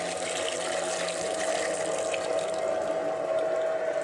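Water runs steadily while mortar is mixed on a building site, a continuous close wash of liquid with a faint pump-like hum underneath, no voices.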